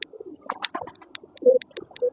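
Pigeons coo close by after drinking water, with several short low coos in a loose rhythm among faint chirps and rustling.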